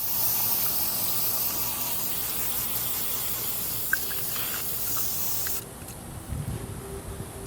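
A hose spray steadily rinses a 1997 Johnson 115 hp outboard engine, a loud continuous hiss of water that cuts off near the end and leaves faint dripping and splashing.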